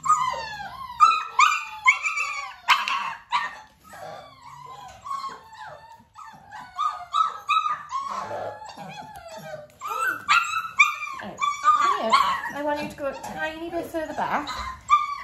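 A litter of nearly six-week-old puppies yips, barks and whimpers in a busy, overlapping chorus, close and fairly loud, with a person talking at times among them.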